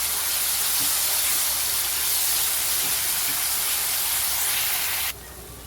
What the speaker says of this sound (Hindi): अभी अदरक लहसुन डाल के अच्छे से भूनेंगे, इसकी कच्चापन जाने तक अच्छे से भूनेंगे।